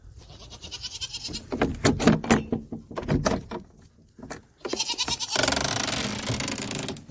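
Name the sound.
goats bleating in their stall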